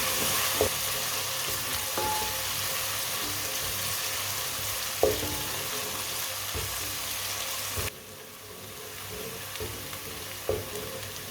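Grated ginger and green garlic fry in a pan for a winter aloo gobhi dish, a steady close sizzle with a few sharp clinks of stirring, the hiss easing and softening near the end, with no talk.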